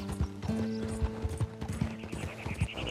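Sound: white Arabian horse galloping in Red Dead Redemption 2 video game

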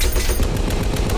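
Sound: gunfire in the movie Fury

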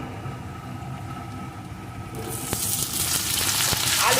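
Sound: potatoes frying with chopped onions

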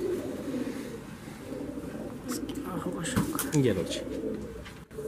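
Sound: pigeon cooing, breeder pigeon

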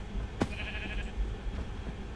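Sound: sheep bleating in a video game

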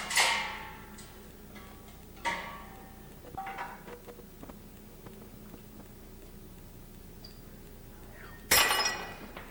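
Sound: broken lab glassware being handled

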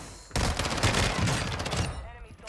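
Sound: MP7 SMG gunfire with suppressed rounds, video game

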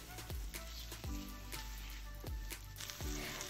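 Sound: spice paste sautéing in hot oil for nasi bakar

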